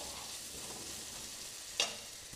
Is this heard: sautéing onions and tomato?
yes